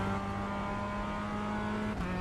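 Mazda MX-5 race car in the iRacing sim, its engine holding a steady loud drone with a slight pitch change near the end.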